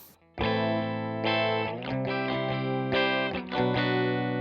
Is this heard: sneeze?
no